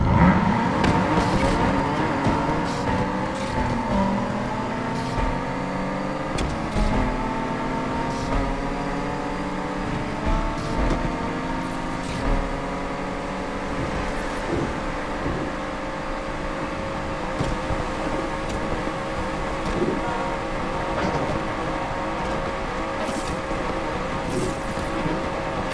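A Nissan Skyline GT-R KPGC10 Hakosuka in a Need for Speed drag race roars continuously, its engine revving up through gears with repeated rising whines and brief shift dips, loud and close, with no talking.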